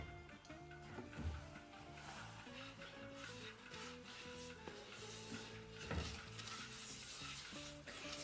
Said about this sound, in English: Sprinkle some olive oil on the pan, just a few drops.